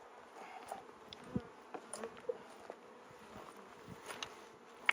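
Honey bees buzz around a backyard beehive kept by beginner beekeepers, a faint, steady insect drone with scattered brief louder passes of individual bees flying close by, without any talking.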